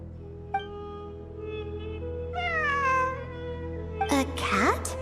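A cat in the game Genshin Impact meows, a few drawn-out meows rising and falling over a steady low ambient hum, ending with a brighter burst of sound.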